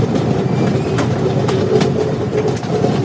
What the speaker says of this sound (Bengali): ট্রেন একটু রানিং হয়ে যায়।